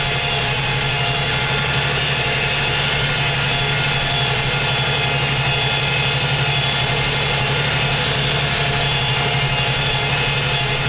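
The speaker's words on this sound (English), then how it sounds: "Hear some soothing engine sounds." A tractor engine pulling a plow in Farming Simulator 2025 drones steadily and loudly throughout, a constant low rumble and idle-like hum with no pauses and no voices.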